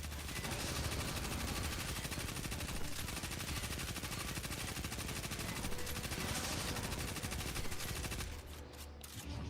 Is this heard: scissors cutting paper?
no